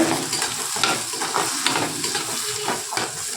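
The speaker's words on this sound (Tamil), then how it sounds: "வெள்ளைப்பூடு வதங்கும் போதே நம்ம எடுத்து வச்சுருக்க வெங்காயத்தையும் அதோட சேர்த்துக்கிற போகிறோம்" Garlic and onions sauté in a hot pan, sizzling in a steady loud hiss of frying with soft stirring scrapes, and no voices over it.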